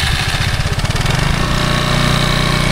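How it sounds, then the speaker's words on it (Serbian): A motorcycle engine on a driving-school training ground fires up with a rough, throbbing chug, then settles into a steady idle, close and loud, with no talking. "Sljedeća radnja je startovanje motora"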